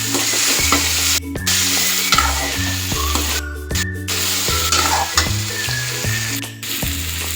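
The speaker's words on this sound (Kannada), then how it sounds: "ಇವಾಗ ಮಸಾಲ ಬದನೆಕಾಯಿ ನೀಟಾಗಿ ಫ್ರೈ ಮಾಡ್ಕೊಳ್ಳಿ." Masala-stuffed brinjal frying in oil in a pan, a loud steady sizzle with repeated stirring scrapes and clinks through the whole stretch, no voices.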